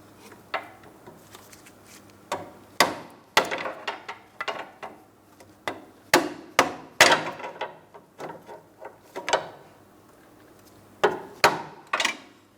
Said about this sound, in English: I'm using my pry bar and a hammer and I'm going to tap on it, breaking it free.